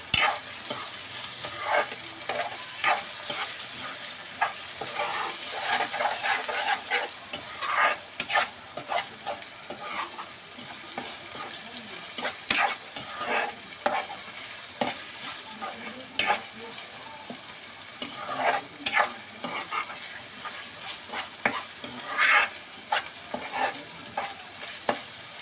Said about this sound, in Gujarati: આપણે એને હલાવીને ઘડી ટમેટાને આપણે સડવા દઈશું